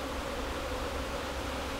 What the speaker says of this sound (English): I'm getting a real cross response here from the bees, as you can see, because I have no smoke and the bees are not happy.